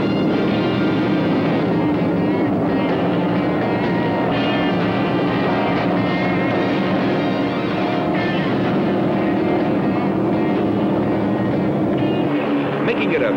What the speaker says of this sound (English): look at Bob Nordskog's number 11 Powerboat Magazine Special surging up to challenge